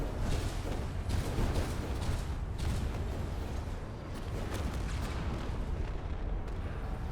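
Turret fire from a battleship in the Space Engineers game sets off a continuous barrage of muffled explosions, dense rumbling booms and crackles overlapping at a steady moderate distance without letup.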